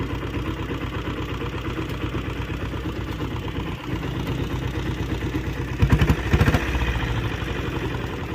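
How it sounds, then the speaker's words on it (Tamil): Diesel Royal Enfield Bullet motorcycle engine idling close by with a steady, rapid thudding clatter, which briefly swells into a couple of louder knocks near the end. "இப்போ அவ்வளோதான், பம்ப் பண்ணி ஸ்டார்ட் பண்ணுறது இந்த வண்டி."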